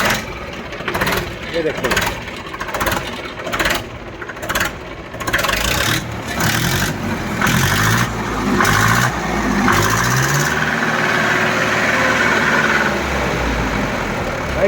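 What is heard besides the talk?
second-hand tractor engine starting and idling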